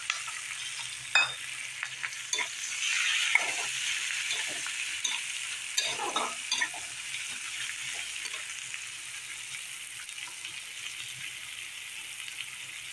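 Chopped onion and garlic frying in a pan, a steady close sizzle throughout with a few stirring scrapes and utensil clinks, no talking.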